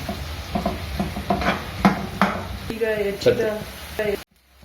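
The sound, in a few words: onion and green chili frying and being stirred in a pan for dill upma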